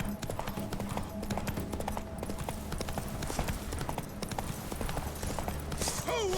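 Horse hooves clip-clop in a steady, even rhythm in The Witcher 3: Wild Hunt, close and continuous, a ride that goes on throughout over a game soundscape.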